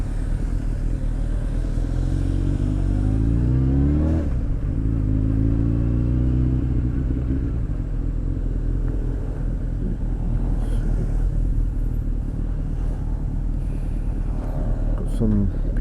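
Traffic at a busy intersection in Seoul, heard from a motorbike, makes a steady low rumble of engines, with one vehicle revving and pulling away nearby and faint clatter further off. A voice speaks briefly under the noise.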